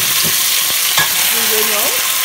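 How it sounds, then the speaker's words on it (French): Meat dropping into hot oil sizzles loudly and up close, with a few stirring knocks and a brief squeaky scrape. "Donc l'huile est chaude, il faut rajouter tous les ingrédients à part la pâte de date et l'eau. Donc ici on va mettre la viande,"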